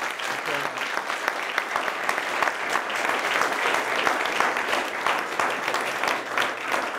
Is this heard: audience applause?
yes